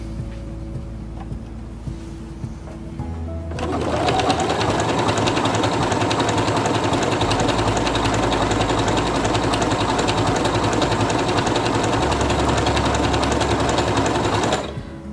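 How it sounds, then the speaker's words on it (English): A Singer Quantum Stylist 9960 sewing machine starts up after a quiet few seconds and stitches fabric in a fast, steady mechanical whir that holds loud and close until it stops near the end. "I'm going to stitch out the way it is right now."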